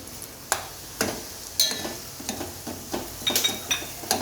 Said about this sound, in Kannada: ರವೆನ ಸ್ವಲ್ಪ ರೋಸ್ಟ್ ಮಾಡ್ಕೊಳ್ಳಿ